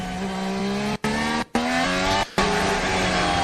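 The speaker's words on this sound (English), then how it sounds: "The sound you can hear is the McLaren" A McLaren Formula 1 car screams through turn 3 at the Australian Grand Prix during free practice, its engine a loud, sustained high-pitched whine broken by a few brief cuts as it shifts gears.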